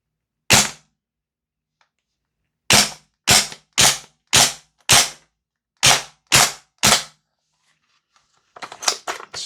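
VFC G36C V2 gas blowback airsoft rifle firing: one shot, a pause, then a rapid string of sharp, loud cracks, a short gap and three more shots, ending in faint rustling.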